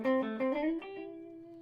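An LTD H50 electric guitar plays a few quick clean notes through an Orange TH30 amp and 3x12 cabinet with a reverb pedal, ending on a ringing, sustained note that fades softly.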